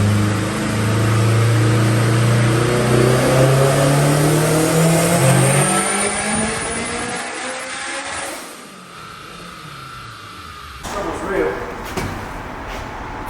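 A turbocharged K24 engine in a Honda Civic Si (EM1), making over 600 hp, revs hard on dyno rollers in a shop, loud and rising before cutting off, with people talking over it.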